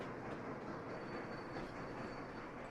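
A train rolls along in the rail game Sweet Transit, giving a steady, moderately loud rumbling with a faint high whine on top and no voices.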